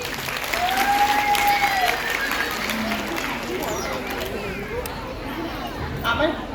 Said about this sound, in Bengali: আমার দিদিভাইয়ের জন্য একটা জোরে হাততালি হোক